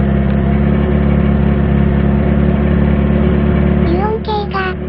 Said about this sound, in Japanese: 油温計が80度くらいになるまで、アイドリングで油温を上昇させます